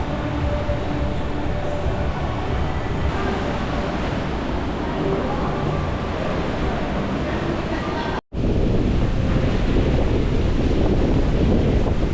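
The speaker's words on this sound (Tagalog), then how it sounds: "Maulan. Kaya malakas ang alon." Rough sea on a rainy day heard from the Royal Caribbean cruise ship Ovation of the Seas, a loud, steady broadband rush of waves with wind buffeting the microphone, continuous throughout apart from one brief dropout near the end.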